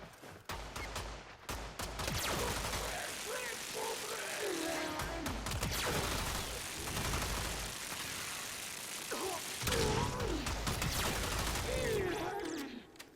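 Spectra Vandal beam rifle firing in live combat in Warframe on PS4, a sustained buzzing stream of fire with whirring, ratcheting mechanisms and brief breaks, mixed with battle effects at moderate level.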